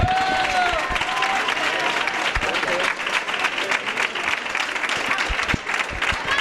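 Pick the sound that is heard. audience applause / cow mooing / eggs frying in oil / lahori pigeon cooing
audience applause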